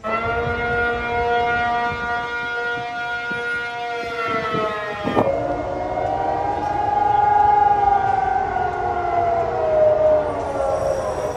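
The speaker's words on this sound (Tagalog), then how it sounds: "sabay-sabay na tumunog ang mga sirena sa mga syudad ng Taiwan" Wailing air raid sirens sound continuously across cities in Taiwan during a drill, rising and falling in pitch, blending across a wide area with a steady background hum.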